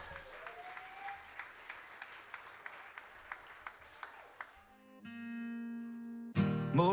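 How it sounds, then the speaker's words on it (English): A wedding crowd claps for the newlyweds, sparse and fairly distant, then the clapping stops and sustained music takes over. "Let's give the brand new Gehrings a big round of applause."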